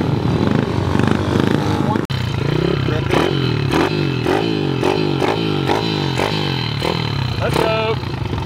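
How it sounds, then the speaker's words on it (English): Small pit bike dirt bike engines rev and whine loudly in a backyard, pitch rising and falling through repeated throttle bursts and gear changes, close by and continuous. "We're riding some pit bikes."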